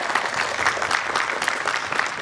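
Audience applause for panelists at a WonderCon 2025 convention panel on video game reviewing, dense steady clapping from a crowd throughout the short stretch.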